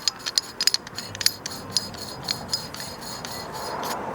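Threaded lock ring on a BC coilover being spun and tightened on a Nissan Cube Z12, a run of sharp metallic clicks and clinks over a steady scraping rasp, close up and with no talk.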